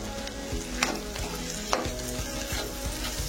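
Okra (bhindi) frying with spices in a pan on low flame, a spoon scraping and clacking in rhythmic stirring strokes over a steady close sizzle.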